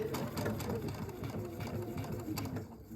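A sewing machine stitches a one-piece fabric bread bag at 2.5 mm stitch length, a steady rapid mechanical whirr with rhythmic needle pulses, close and continuous for a few seconds.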